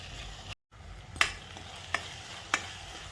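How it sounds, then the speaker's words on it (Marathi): Homemade masala with turmeric, red chilli and salt stir-fried in a pan for a bitter gourd vegetable dish, heard as a soft steady sizzle with a few sharp scraping stirs of a spoon, no talking. "मसाला खूप छान फ्राय झालेला आहे"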